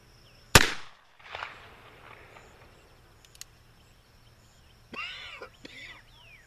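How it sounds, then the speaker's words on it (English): A single loud, sharp crack from a Remington New Model Army black powder revolver, fired two-handed at a target, with a quick decaying echo and quieter sounds afterward. "we'll shoot 2 hands this time"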